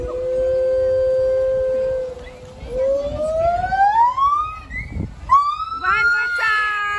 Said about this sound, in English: That's the monkey's sound.